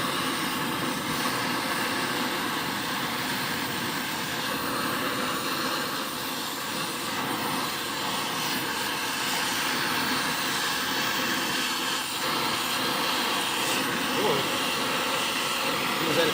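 A torch flame roars with a steady, loud broadband hiss as it heats a go-kart part until it glows red. The flame runs unbroken throughout with no pauses.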